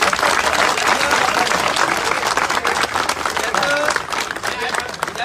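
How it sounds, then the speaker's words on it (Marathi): Heavy crowd applause at an outdoor Vanchit Bahujan Aghadi felicitation event, thick continuous clapping from many people, loud and close, with some voices mixed underneath. "एकदा या दोघींसाठी प्रचंड टाळ्यांचा गजर आपण करूया।"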